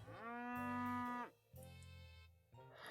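A cow moos in the farming video game Peachleaf Valley: one long, loud, drawn-out low call followed by two shorter moos, alone without talk.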